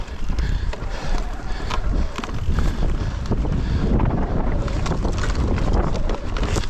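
Strong wind buffeting an outdoor microphone near a boat on the water, a continuous loud broadband roar with gusty surges throughout and no speech.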